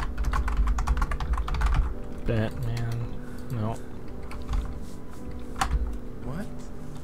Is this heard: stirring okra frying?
no